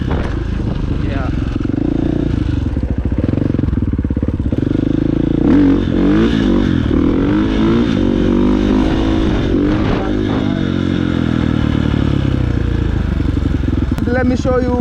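A KTM 450 motorcycle engine drones and revs throughout, rising and falling in pitch under continuous nearby talking, with a loud, close, steady rumble.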